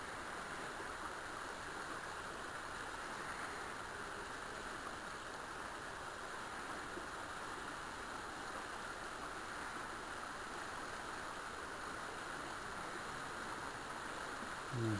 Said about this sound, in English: You hear a lot of water running because we're directly over the bridge.